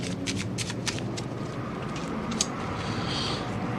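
A pack of playing cards is given a quick shuffle during a card trick, producing a steady papery riffle with sharp flicks, close and fairly quiet, with no talk over it.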